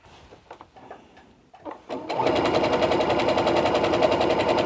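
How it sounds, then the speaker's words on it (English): A sewing machine chain stitches the center seam of a kids' fabric face mask, starting after a few soft handling noises and then running in a fast, steady, close mechanical rattle of needle strokes. "I'm going to chain stitch this as well with the rest of my center seam. So I'll just grab my next piece, get everything lined up and feed it under and sew."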